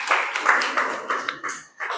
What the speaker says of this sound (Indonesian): Oke, tepuk tangannya dulu semuanya.